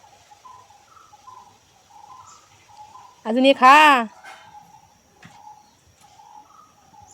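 A pet bird being fed chillies gives one loud, harsh, rising call for under a second at close range. Soft background chirps continue around it, and a person speaks nearby.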